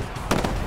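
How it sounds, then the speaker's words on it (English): Rockets firing in the Titanfall shooter game: a pair of sharp blasts in quick succession over a steady background of game noise. "they're just firing random rockets everywhere"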